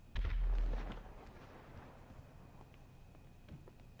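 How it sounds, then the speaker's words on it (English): In-game explosion in GTA V story mode, a single deep low boom at the start that rolls off over about a second, leaving a quiet ambient hum with faint clicks. "What was up with that explosion?"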